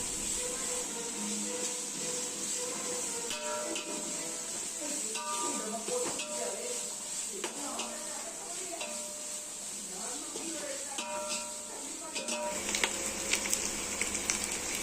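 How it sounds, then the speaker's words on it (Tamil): Onions and ginger garlic paste sautéing in a home kitchen pan for mutton dum biryani, with steady sizzling and repeated spoon stirring and scraping against the metal, close and continuous. "இப்போ இஞ்சி பூண்டு பேஸ்ட்டை சேர்த்துக்கலாம். 1 நிமிஷம் வரைக்கும் அடி பிடிக்காமல் நம்ம வதக்கி விடணும்."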